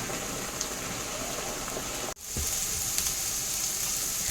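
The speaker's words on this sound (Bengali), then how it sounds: "দেখো এই যে লবণ আর হলুদ দিয়ে কষিয়ে নিচ্ছি" Spices sauté in hot oil with salt and turmeric, giving a steady, close, hissing sizzle. The sizzle drops out for an instant midway, then returns at the same level, with no talking.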